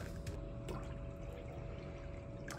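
Vinegar pours into an ultrasonic cleaner as a faint, steady liquid trickle with a few soft splashes and clinks over a constant electrical hum.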